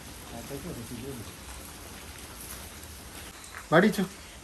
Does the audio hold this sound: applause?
no